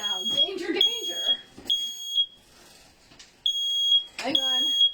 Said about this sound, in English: I forgot the smoke alarm.